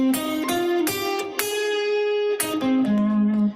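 An electric guitar plays a short solo phrase from a song, landing on the root note, with several sustained, bright bent notes ringing loud and clear.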